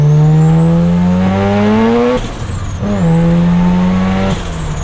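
A built Mazda RX7 rotary engine pulls hard on a dyno, its loud, steady note sweeping upward in pitch through two long runs with a brief drop between them, no voices over it.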